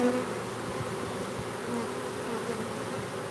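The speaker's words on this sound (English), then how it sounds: "So right now, they are very much fanning." A steady, dense buzzing hum of a swarm of honeybees fanning and droning together, constant and moderately loud throughout with no voices.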